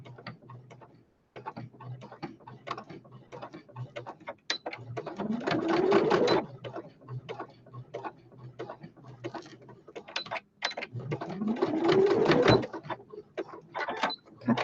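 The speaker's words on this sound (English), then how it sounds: "do a straight stitch back and forth" A sewing machine runs a straight stitch back and forth across patchwork fabric made from odds and ends, in two loud rattling bursts of rapid needle clatter separated by quieter ticking and pauses.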